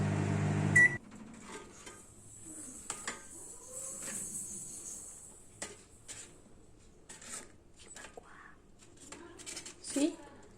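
A microwave oven running while cooking papad: a steady low hum opens with a beep, and faint clicks and handling noises scatter through, with no clear talking.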